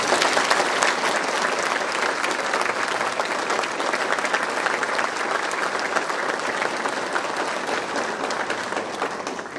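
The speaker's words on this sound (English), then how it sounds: "give our 50th graduating class a big round of applause" A large audience at a 2023 high school graduation ceremony claps steadily for the graduating class, a dense, sustained applause that holds at full strength throughout without any talk over it.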